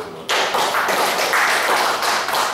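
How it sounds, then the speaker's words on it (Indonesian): Audience applause in a classroom or seminar setting, a dense, steady burst of many hands clapping that starts abruptly and continues loudly without talk. "Kasih tepuk tangan buat tadi yang sudah terakhir semua"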